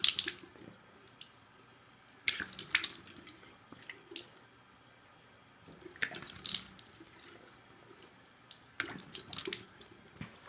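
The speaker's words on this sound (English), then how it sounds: "And I'm gonna now rinse off my face." A bathroom sink tap runs steadily while a person rinses their face, with three bursts of splashing water close by over the quiet flow.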